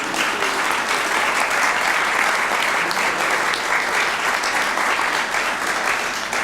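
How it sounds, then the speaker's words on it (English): A committee meeting audience applauds students, giving dense, continuous clapping from many people that stays loud and even throughout. "Round of applause for the students."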